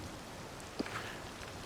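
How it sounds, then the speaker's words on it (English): Soft, even rainfall in the video game Disney Dreamlight Valley, a low continuous patter with one faint tap in the middle. "Yeah, so it's raining"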